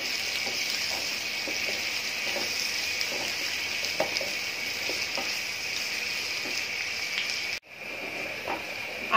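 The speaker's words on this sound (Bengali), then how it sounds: "এখন দিয়ে দিচ্ছি আলু, পেঁয়াজের সাথে আমি আলুটা ভেজে নিচ্ছি।" Potato and onion frying in a pan for a mango, potato and pabda fish sour curry, giving a steady close sizzle with faint stirring taps, briefly dipping near the end before resuming.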